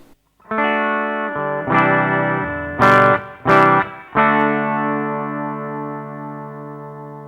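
Electric guitar played through a Fender Hot Rod Deluxe amp with a clear, sustained clean tone: a few chords and plucked notes ringing out, then a long final chord fading.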